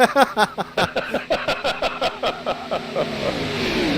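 Stock car engines in an online racing video game, a rapid series of loud revving bursts passing close, pulsing rhythmically before settling into a steadier drone.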